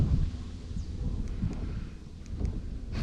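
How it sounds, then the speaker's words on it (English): Wind gusting across a riverbank during fly fishing, a low rumbling buffet on the microphone with uneven gusts, fairly loud and close, with no voices. "That wind is full swung southerly."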